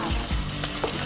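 Food frying in butter in a home kitchen pan, a steady close sizzle that runs the whole short moment, with soft stirring clinks over it.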